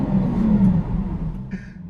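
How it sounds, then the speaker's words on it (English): A Lamborghini Aventador SV engine fires up and settles into a deep, steady rumbling idle close by, fading slightly toward the end. "Foot on the brake. That's red, so I'm assuming I press that. Flip up. Mm-hmm. Start engine."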